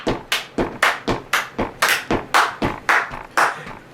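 A single person claps hands in a steady, even rhythm, about a dozen crisp, close claps over a few seconds with no talking.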